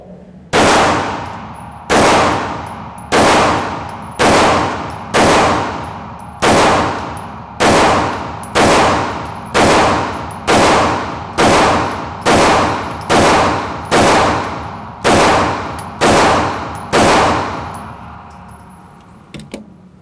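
Taurus G3 pistol fired at a shooting range, seventeen loud, evenly spaced gunshots about one per second, each with a sharp crack and echoing decay, no talk.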